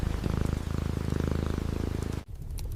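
A fluffy cat curled up indoors purrs in a steady, close rhythmic rumble of quick pulses, briefly broken near the end before resuming, with no talk over it.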